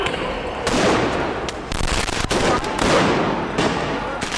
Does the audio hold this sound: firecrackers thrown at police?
yes